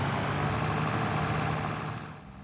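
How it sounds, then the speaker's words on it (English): A vehicle engine in the Farming Simulator video game drones as a steady, low rumble, holding even before easing down slightly near the end. "When using a vehicle in a high load situation, the audio processing will have a much more dramatic effect on the engine sound."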